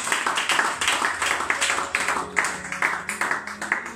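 Congregation clapping in a church, a dense, steady round of applause from many hands filling the room, loud and close throughout.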